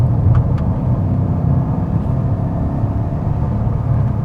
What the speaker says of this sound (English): Let's turn on the sport exhaust.